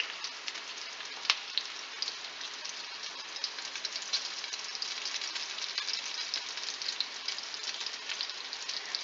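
Rollatini frying a few at a time in an uncrowded hot pan, a steady soft sizzle and crackle with scattered pops, no talk over it.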